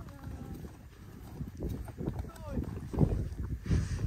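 Hooves of a horse clip-clop on a countryside trail ride, irregular thuds at a walking pace, close and fairly soft, with people talking over them.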